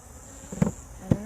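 Honey bees hum at an open hive being settled back down, a faint drone with two brief louder thumps about half a second apart.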